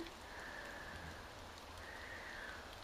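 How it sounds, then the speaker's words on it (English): Steady rain falls, a soft continuous patter that stays faint and even throughout, with no talk. "It's raining."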